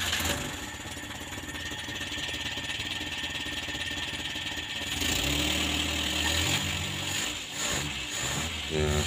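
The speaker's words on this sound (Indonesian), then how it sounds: "mesin langsung langsam" An old car engine idles steadily right after starting, a close, rough mechanical rumble that rises when the throttle is blipped.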